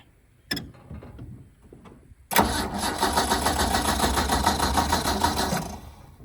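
A Mustang six-cylinder engine cranks and catches after a brief clatter, then runs loud and steady at a rough idle for several seconds before fading slightly near the end.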